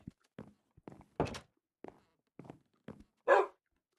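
A dog out in a forest gives a few short barks and yelps, mixed with scattered thumps and footstep-like knocks, sparse and fairly quiet with pauses between sounds.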